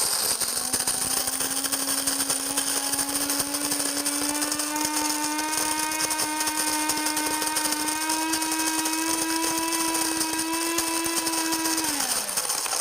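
An electric burr coffee grinder set to medium grinds beans with a steady, whining motor hum and a faint rattle. The hum holds for about twelve seconds, then winds down as the motor stops.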